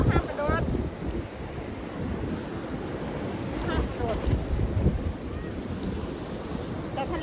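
Strong waves crash and roll along a windy Danish seashore while heavy wind buffets the microphone, a loud, continuous roar throughout.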